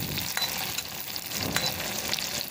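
Onions and long-cut green chilies frying in hot mustard oil, a steady close sizzle with small pops and stirring scrapes, no voices.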